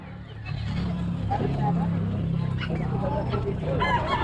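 A chicken at the Baliwag pet market clucks at close range among tonal calls, while people talk continuously and market noise fills the background.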